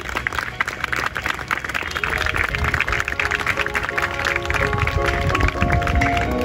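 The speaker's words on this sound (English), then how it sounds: "So huge round of applause for our children." A crowd claps for children at a school sports day, with dense, continuous applause and cheering noise that swells slightly toward the end, mixed with background chatter.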